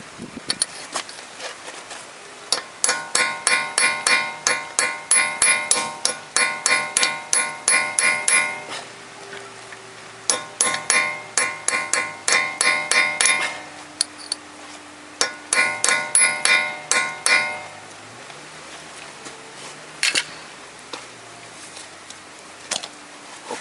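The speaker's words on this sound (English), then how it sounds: "I take my metallic spike, and then of course hammer, and I hammer that little bit." Sharp metallic taps ring out in quick bursts as a hammer strikes a metal spike to knock out a dent in a Toyota Corolla part, with pauses between runs and faint background hum.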